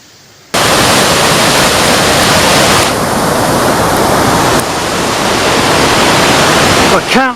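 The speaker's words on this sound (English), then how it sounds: "I can't seem to get away from the waterfall." A waterfall flowing on a mountain trail near Sofia, a loud, dense, constant roar that starts abruptly and holds steady throughout, with a brief faint chirp near the end.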